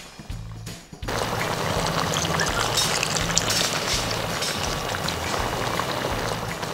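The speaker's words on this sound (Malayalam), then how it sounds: "ഇനി ഇതാ ഒന്നാം പാലും കൂടെ ചേർത്താൽ മതി" First coconut milk is poured into a simmering egg curry, giving a steady, close, bubbling pour that starts abruptly and continues without a break, with no speech.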